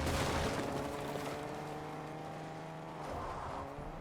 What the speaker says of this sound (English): Final player's rolling in on a car.